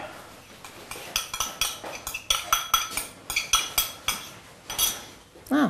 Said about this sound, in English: You just give it a light stir just to disperse the butter